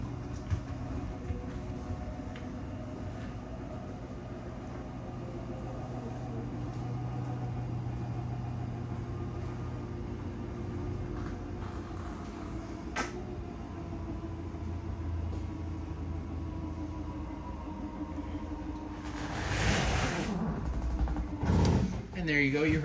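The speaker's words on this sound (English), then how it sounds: "once fully extended, you're gonna hear the whines and the clicks of the motor" An RV slide-out motor on a 2025 Forest River Wildwood 33 TSX hums steadily under a voice, ending in a brief louder burst of whining and clicking near the end.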